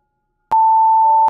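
A sharp click is followed by a single clean electronic tone, the voicemail beep of a telephone in the Five Nights at Candy's game, held for under a second and ending in another click.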